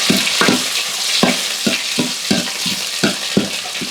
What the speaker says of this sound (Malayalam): ഇത് കടുക് വറക്കുവാണേ.